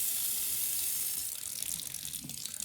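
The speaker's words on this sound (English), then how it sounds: "run it under water." Tap water runs over a part of a stainless steel cat water fountain being rinsed in a sink, a soft steady hiss and splash that becomes more uneven and spattery partway through.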